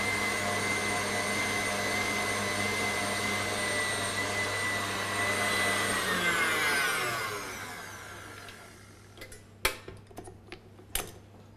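An electric mixer beats egg whites with other ingredients for spiced cinnamon biscuits, a loud steady whine that winds down and stops, followed by a few sharp taps of the beaters against the bowl.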